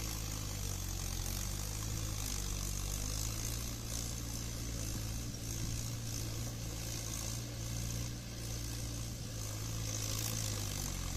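A diesel Mahindra Yuvo 415 DI tractor engine drones steadily with a low rumbling hum throughout, joined by the churning of a 5.5-foot rotavator working soil, moderately close.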